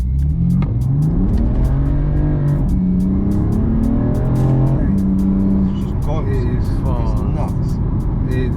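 BMW M4 Competition Pack launching hard as a rear-wheel-drive car, its engine revving up through rising gears with tire chirps, loud and close while people talk over it.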